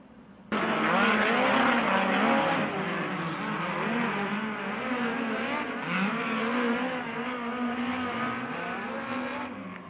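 Sprint race cars run a heat race at the USAC November Classic at Bakersfield. The engines roar loud and close without a break, rising and falling as the cars circle the track, with no voices over them.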